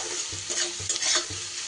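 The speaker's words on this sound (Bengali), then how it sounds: "এইভাবে পেঁয়াজটা আর একটু লাল করে আমি ভেজে নেব।" Onions frying in a pan as they are stirred, a bright sizzle with repeated scraping strokes of the utensil in a quick rhythm, close and clear with no voices.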